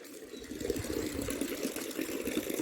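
Water trickles slowly from a village tap on a winter day, a faint, steady splashing and gurgling with no talk over it.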